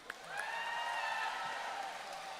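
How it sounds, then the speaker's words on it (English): A concert audience at the Milwaukee Irish Fest claps and cheers for the sound engineer, applause swelling after a brief start and holding steady, moderately distant and crowd-wide. "I'll give a huge round of applause to all the backstage and the front stage crew"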